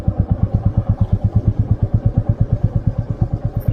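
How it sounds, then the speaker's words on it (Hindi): A motorcycle crawls slowly over a rough, rocky mountain track, its engine thumping in a rapid, even pulse close by, loud and steady with no talking. "बाइक 10-15 से ऊपर नहीं चला पा रहा मैं"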